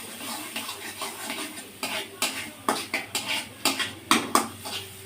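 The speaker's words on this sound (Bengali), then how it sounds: "হাতা বা কুন্তির সাহায্যে সুন্দর করে এটাকে মিশিয়ে নেবেন" Hilsa bone and taro flower curry mixed in a pan with a ladle, giving a series of rhythmic scraping clinks over a soft sizzle, close and clear.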